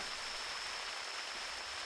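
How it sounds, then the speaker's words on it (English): Steady rain falling in the hunting game theHunter Classic, a dense, even hiss of drops that continues unbroken at moderate level with no other sounds. "I usually say I love rain, but right now I feel like I'm just being dumped on."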